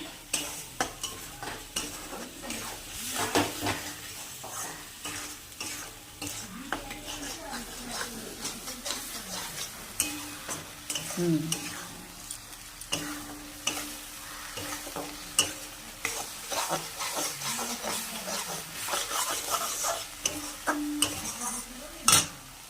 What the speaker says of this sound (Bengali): বন্ধুরা ভালো করে কষানো হবে